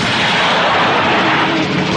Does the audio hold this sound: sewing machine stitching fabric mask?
no